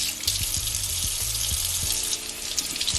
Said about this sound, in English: I'm just gonna rinse them really quick and then peel them